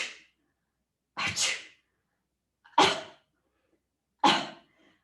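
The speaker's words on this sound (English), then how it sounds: "try doing a cough or a sneeze, or a fake cough or sneeze" Three short, sharp fake sneezes from one person, each a quick breathy burst separated by about a second and a half of silence, close to the microphone.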